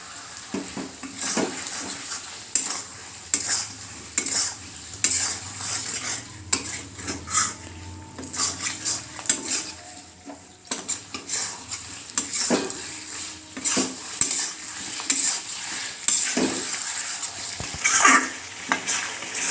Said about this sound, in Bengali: সব সস দিয়ে ভালো করে নাড়াচাড়া করে নিতে হবে।